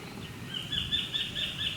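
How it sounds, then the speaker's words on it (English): A kingfisher calls in a tropical island setting, giving a repeated high, thin note about twice a second that sounds moderately distant, over a low steady background hum. "Can you hear the kingfisher?"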